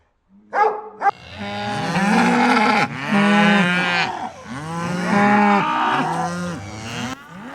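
San Martinero cattle, a Criollo breed from Latin America, give long, loud, drawn-out moos that run on almost continuously, with a dog barking briefly at the start.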